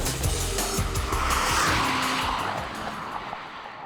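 A BMW M5 driven hard on a race track roars past with tires squealing and skidding, a loud, close burst of engine and tire noise that fades slightly at the end.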